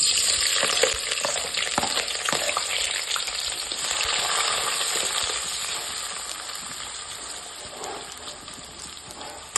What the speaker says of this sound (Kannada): ಉಳ್ಳಾಗಡ್ಡಿ ಚಂದ ಸ್ವಲ್ಪ ಬ್ರೌನ್ ಕಲರ್ ಆಗತ್ತಕ ಫ್ರೈ ಮಾಡ್ಕೋತೀನ್ರಿ.